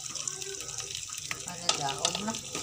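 Bihon noodles frying in a pan hiss and sizzle as a little water is poured in, a crackling wash of noise with clinks of stirring, fairly quiet and close.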